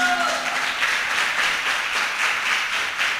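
A church congregation claps together, a dense, steady patter of many hands sustained throughout at moderate volume with no voices over it.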